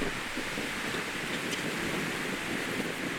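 Steady, loud wind roars and buffets the microphone throughout on a disc golf course, a continuous broadband rush with no voices.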